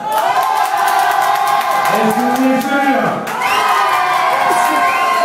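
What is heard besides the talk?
audience cheering and shouting for an applause meter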